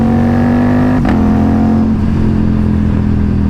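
An Aprilia RS457 motorcycle fitted with an SC Project S1 exhaust and a Gabro map, its engine droning loud and close at a steady pitch, dipping briefly around the first second before settling into a sustained idle-to-mid rev.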